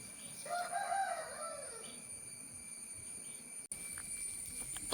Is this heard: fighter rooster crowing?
yes